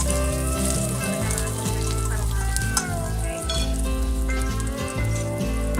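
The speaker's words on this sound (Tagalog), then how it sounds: "Fry na natin ang ating ginger and garlic" Ginger and garlic sizzle loudly in a hot pan, a close, continuous crackling hiss with a few stirring scrapes, while music plays underneath.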